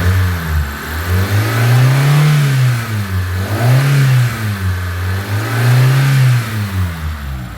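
A warmed-up car engine revs repeatedly after a valve cover gasket replacement, three loud rising and falling revs over a steady idle, close and alone.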